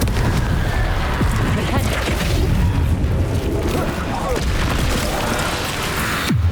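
Repeated Confringo blasts crash through a busy Hogwarts Legacy fight on Nintendo Switch, loud booms buried in a constant, dense wall of combat noise.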